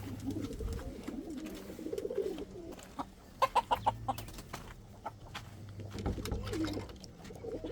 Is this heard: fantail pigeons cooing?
yes